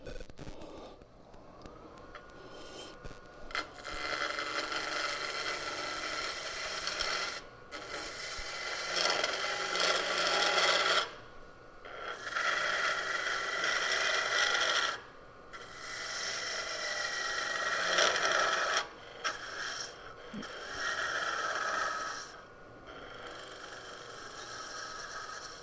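Wood being smoothed on a lathe with a hollowing tool, bursts of steady scraping and whirring broken by short silent gaps, fairly faint and with no talking.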